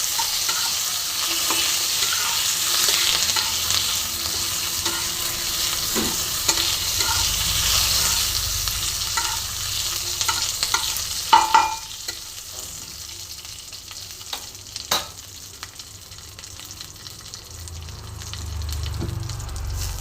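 Dried red chilies and curry leaves fry in hot oil with a steady bright sizzle, broken by occasional clinks and scrapes of a stirring spoon against the pan; the sizzle thins toward the end.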